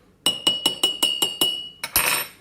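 A spoon stirring a mug of coffee, clinking against the side in a steady run of about eight bright metallic taps, close and clear, ending in a brief jumble of clinks.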